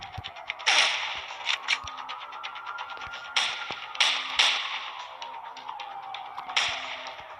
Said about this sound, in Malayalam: അവൻ പിന്നിലൂടെ വെടിവെക്കുന്നു